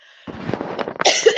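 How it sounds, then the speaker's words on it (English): A single harsh cough bursts out close to the microphone, a rough throaty hack with a sharp second push at the end. "Excuse my cough."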